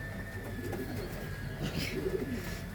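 Pigeons coo softly in low, rolling murmurs against a steady background hum, close by and continuous.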